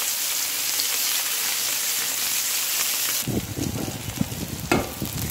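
Onion and green chili sauté in a hot pan as a steady, loud sizzle, joined partway through by scraping and stirring noises.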